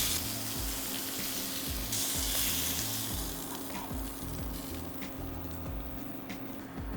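Beef cheeks sear and brown in a pan with a steady, close sizzle and crackle, a continuous frying hiss running through the whole stretch with no one speaking.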